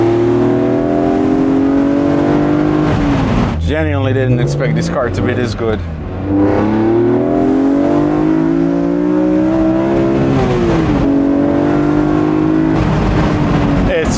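A BMW M car's S54 engine pulls hard, its loud induction noise rising through the gears with several shift dips, while someone talks over it throughout.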